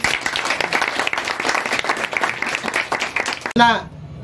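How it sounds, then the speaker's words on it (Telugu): An audience at a charity organisation's 17th anniversary celebration claps in a steady, dense round of applause that fills the room, then cuts off abruptly near the end into a brief hum. "వీరందరికీ ఒకసారి మన సంస్థ తరపున చిన్న చప్పట్లు కొడితే అభినందించండి."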